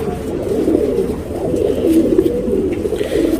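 Tournament pigeons in Bangalore coo steadily at close range, a continuous low murmuring hum with no talk over it.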